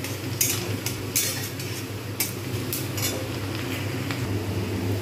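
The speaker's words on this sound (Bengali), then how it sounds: "পেঁয়াজগুলো যতক্ষণ পর্যন্ত না লাল হচ্ছে ততক্ষণ পর্যন্ত কিন্তু আমি সুন্দরভাবে ভাজতে থাকবো" Onions frying in a pan for a Bengali pabda fish curry, a steady soft sizzle with intermittent clinks of a spoon stirring against the pan.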